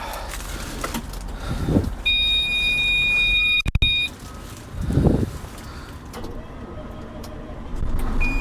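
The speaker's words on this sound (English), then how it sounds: "Wait for it to stop beeping" A steady, high electronic warning tone from a Komatsu HM300 dump truck sounds for about two seconds over the low rumble and clatter of heavy machinery.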